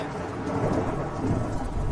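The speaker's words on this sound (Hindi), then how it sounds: "इस मार्च के ठंडी मौसम में बारिश की क्या जरूरत है भला?" Cartoon thunderstorm: a steady, dense wash of rain with low rolling thunder rumbling beneath it throughout, loud and close, with no voices.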